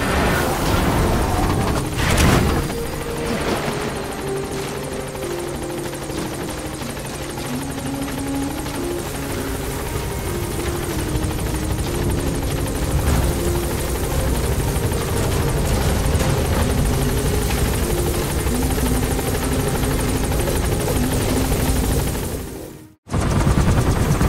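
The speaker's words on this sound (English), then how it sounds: "Support helicopter has arrived." A support helicopter arriving in the video game Metal Gear Solid V, its loud, steady rotor thump and turbine drone filling the whole stretch with little change, then cutting out abruptly near the end.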